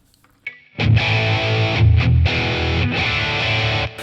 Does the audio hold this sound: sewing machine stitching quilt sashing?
no